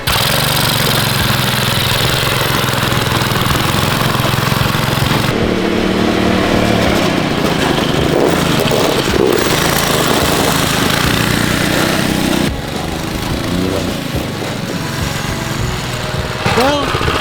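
A 224cc go-kart engine runs steadily on a wet, slippery surface, a loud, continuous buzzing drone that shifts in tone as it turns, with a person talking over it.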